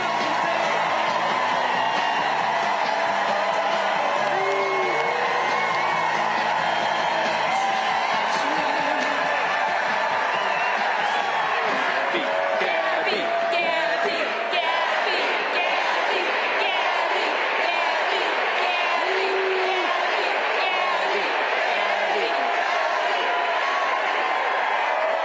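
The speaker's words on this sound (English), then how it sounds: "What a crowd! What a crowd!" A large crowd at a political rally in Arizona cheers and whoops continuously for about twenty-five seconds, with scattered shouts and chatter rising over the roar.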